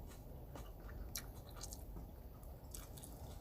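Close crunchy chewing of fresh leafy vegetables such as pak choi, with soft wet bites and mastication sounds repeating irregularly, heard alone without talk.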